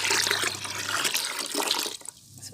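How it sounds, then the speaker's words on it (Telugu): Water poured into a fermenting homemade plant fertilizer mix, a loud splashing pour for about two seconds that cuts off abruptly, leaving quiet room tone. "దీనికి ఇప్పుడు ఈ వాటర్ కూడా యాడ్ చేసుకోవచ్చు"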